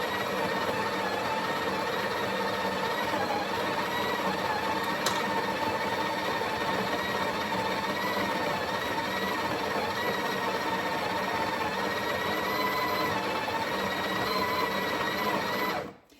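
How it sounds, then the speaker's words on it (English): A coffee grinder grinds espresso beans in one continuous, steady, close whirring buzz that runs almost the whole time before cutting off abruptly at the end. "so you just grind your coffee here"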